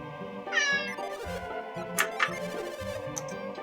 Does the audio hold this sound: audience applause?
no